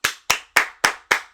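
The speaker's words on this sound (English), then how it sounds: "Round of applause for your hosts." Bare hands clap five times in quick, evenly spaced succession. Each clap is sharp, close and alone, with a short decay between claps.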